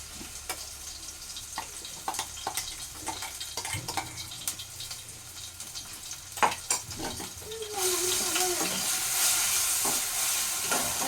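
Chicken fries in a pan with a spice paste of ginger, cumin, onion, garlic and garam masala; a soft sizzle carries scattered clinks and scrapes of a utensil, then swells into a louder, steady hiss near the end.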